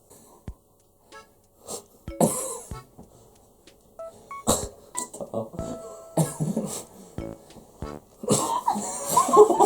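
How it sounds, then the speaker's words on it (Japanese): Coughs and throat sounds burst out in short scattered bursts during a sneeze contest, mixed with clatter and people talking and laughing nearby. "咳しかしてない"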